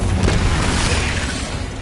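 Confringo fire spell explosion from the game Hogwarts Legacy, a loud, dense booming blast that fills the whole moment and rumbles on steadily without any gap.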